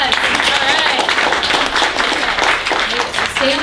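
Room of people at a business networking pitch event clapping together, a dense continuous patter of applause with cheering and voices mixed in throughout.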